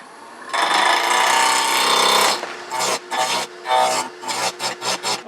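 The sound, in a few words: turning a Bradford pear wood blank round on a lathe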